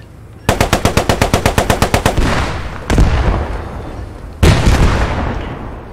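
Tank weapons fire in the WWII shooter game Post Scriptum: a rapid, loud burst of about fourteen machine-gun rounds, followed by two heavy, booming cannon blasts with a lingering rumble, with no talking.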